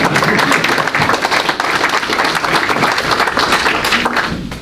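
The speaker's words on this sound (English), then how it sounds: "Y'all can clap behind that." An audience at a public meeting in a church claps steadily and loudly for several seconds, a thick continuous wash of hands that stays level before tapering slightly at the close.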